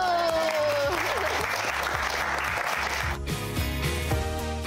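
People in a broadcast segment break into clapping, a sustained round of applause close by, with a tone fading under it and talk mixed in near the end.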